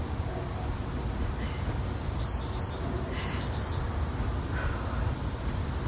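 A workout interval timer sounds a few short electronic beeps in a pair-then-pair pattern, faint over a steady hiss of background noise.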